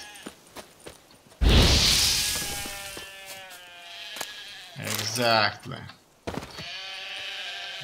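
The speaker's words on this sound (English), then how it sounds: "can I kill the sheep?" Sheep in The Witcher 3 video game let out a loud, wavering bleat midway, with a brief second cry near the end, while someone talks over the game's ambience.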